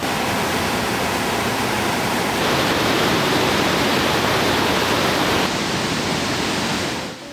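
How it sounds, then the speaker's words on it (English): The Mekong River thunders over Kong Pha Phang Falls near the Cambodian border, a dense, loud, unbroken roar of pouring water that fades slightly at the end. "the sight of the Mekong pouring through the Kong Pha Phang Falls"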